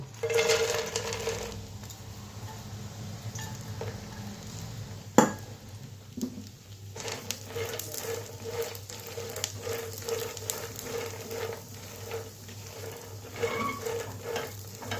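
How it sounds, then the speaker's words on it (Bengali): Makhana fry in hot ghee in a pan, a soft steady sizzle with intermittent spatula stirring scrapes and one sharp metallic knock, close and without talk. "ঘিটা গরম হয়ে গেছে, তো মাখানাগুলো দিয়ে দিব।"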